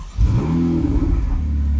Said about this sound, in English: now push the brake and that button for start the engine.